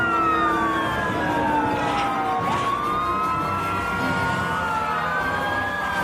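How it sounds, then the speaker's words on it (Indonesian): A red toy fire truck with a ladder blares a continuous wailing siren, its rising and falling tones sounding steady and close for about six seconds with no talking. "Wow, keluarlah mobil pemadam kebakaran."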